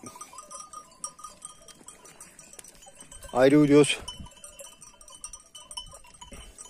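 Cowbells tinkle faintly in a mountain flock of sheep and goats, then one animal lets out a brief, loud bleat midway; someone speaks briefly and the bells continue afterward.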